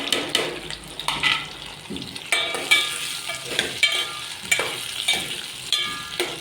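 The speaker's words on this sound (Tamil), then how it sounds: "இது நல்லா எண்ணெயிலே கொஞ்சம் நேரம் வதங்கும்" Brinjal gravy ingredients sautéing together in oil, with a frying sizzle broken by repeated sharp scrapes and clinks of a spatula against the pan, about a stroke every half second.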